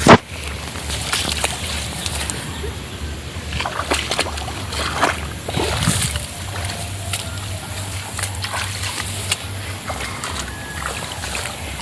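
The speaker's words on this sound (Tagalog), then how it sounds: "pareho kaming nakabota na tumuong sa baha" Boots wading through flood water on a vegetable plot, with sloshing and splashing steps over a low rumbling background.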